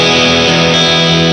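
Electric guitar driven through a TS9 overdrive into a Marshall JCM2000 amp, a loud, steady sustained distorted chord ringing alone with no talk.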